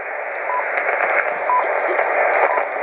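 HF radio receiver on an active loop antenna picks up steady hissing interference noise from a switch mode power supply on a workshop solar panel, with faint brief tones in the hiss.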